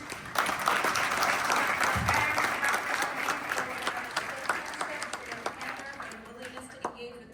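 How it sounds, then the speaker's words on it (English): An audience gives a round of applause for Arif Alvi, former President of Pakistan, dense clapping that gradually thins and fades toward the end, with a voice speaking over the tail. "I'd like everybody to give one more round of applause for Mr."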